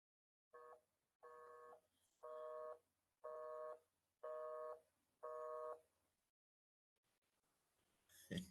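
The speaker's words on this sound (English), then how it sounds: "It says Sasha is on another call" Telephone ringback tones while calling someone, six evenly spaced two-tone bursts about a second apart, clear and fairly quiet, followed by a short silence and a faint click.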